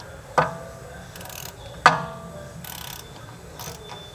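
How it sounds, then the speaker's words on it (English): A hand ratchet tightens wheel bearing bolts, giving two sharp metallic clicks about a second and a half apart, with light mechanical rattles in between against a quiet background. "Make sure you definitely put a hand ratchet on it just to check it."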